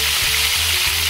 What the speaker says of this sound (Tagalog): ang gusto ko lang po ay dito sa pagpiprito ay natatanggal po yung lansa niya